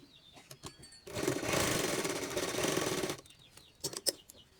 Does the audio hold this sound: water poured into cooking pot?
no